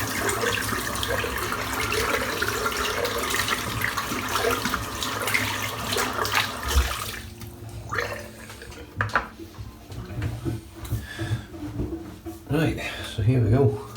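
A tap runs steadily while shaving soap is rinsed off, a loud continuous splash for about seven seconds. It then stops, leaving scattered drips and clatter, with someone talking.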